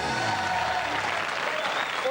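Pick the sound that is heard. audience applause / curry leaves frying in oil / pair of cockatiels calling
audience applause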